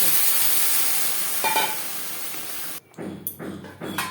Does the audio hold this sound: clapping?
no